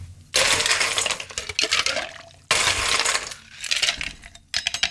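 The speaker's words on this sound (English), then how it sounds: "And then we'll throw some ice in there." Ice cubes dropped into a cocktail shaker for a Golden Apple cocktail, three loud bursts of clattering and rattling, each fading before the next, close and with no talk.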